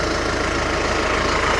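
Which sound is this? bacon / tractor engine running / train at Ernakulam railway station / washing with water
tractor engine running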